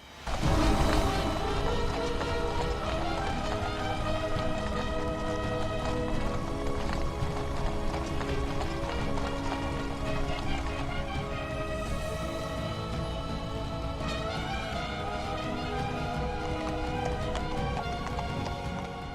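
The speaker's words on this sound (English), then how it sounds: "By now, all of you know Virat, probably India's most famous horse. There he is, the senior most horse of the president's bodyguard, also the charger." Virat, the senior charger horse of India's President's Bodyguard, his hooves clip-clopping steadily on hard ground beneath loud continuous music, with occasional faint voices.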